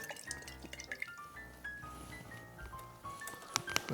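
Running water rinses out a blender container after making keto lime super juice, splashing and dripping steadily with a few light clinks, loudest near the end.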